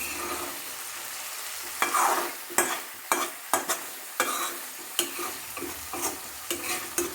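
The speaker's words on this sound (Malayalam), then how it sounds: "നല്ലപോലെ ഇളക്കി കൊടുക്കുക." Chicken roast is stirred in a hot pan, its soft sizzle broken by a rhythmic series of loud spatula scrapes and knocks, close by and with no talking.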